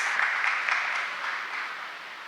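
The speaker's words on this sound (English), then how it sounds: "So give yourself a round of applause." A crowd claps steadily, a dense wash of applause that gradually fades a little.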